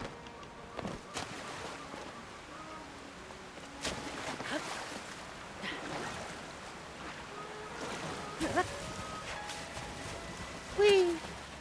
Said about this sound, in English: Might just swim with the waterfall.